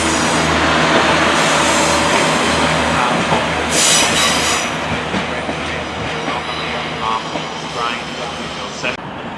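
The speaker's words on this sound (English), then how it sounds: "Here comes a 185 going to Manchester Airport" A Class 185 train bound for Manchester Airport pulls into a station, its loud rumble and rolling clatter close by, with wheel squeal and a brief high screech as it slows, while voices talk over it.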